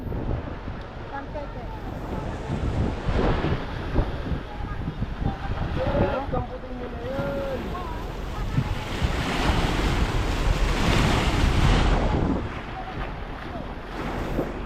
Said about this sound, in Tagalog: Ayan, may kakunti-kunti pa rin ang alon.